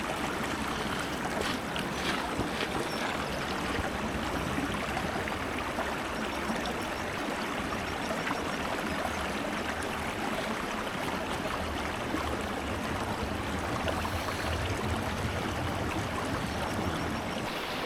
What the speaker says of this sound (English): I'm just going to go down to this stream and get some water and try not to fall in.